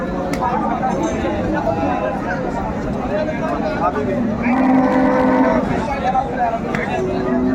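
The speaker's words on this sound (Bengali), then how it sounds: "চমৎকার একটি গাভী বাছুর আমরা দেখছিলাম।" A cow moos at a busy Dhaka cattle market where dairy cows and calves are being sold, one long low call near the middle standing out over steady crowd chatter and bargaining voices.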